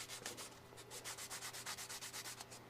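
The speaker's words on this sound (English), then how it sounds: "a little bit of sanding" Quiet rhythmic sanding of a model by hand, about a dozen short scratchy strokes in a steady back-and-forth pattern, heard close up with no talking.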